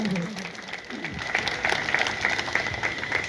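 An audience applauds a 200th stage performance, with dense clapping swelling up after a brief voice and holding steady to the end.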